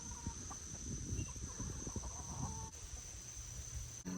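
Chickens clucking and fussing in short bursts while people try to catch them for wing clipping, with scattered nearby bird calls over steady background noise and no speech.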